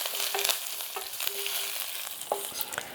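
Fresh curry leaves and halved red chilies sauteing in hot oil for a Kerala tempering, giving a steady soft sizzle with occasional sharp crackles and pops, close and alone with no talking.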